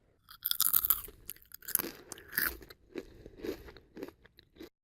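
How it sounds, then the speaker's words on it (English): Close, crisp crunching of thin fried plantain chips being bitten and chewed, several loud crackling crunches in quick succession with short pauses. "Just listen to how crunchy these are."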